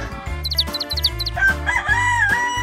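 A rooster crows once, a rising then trailing cry, following a few short clucks, all over a cheerful rhythmic tune.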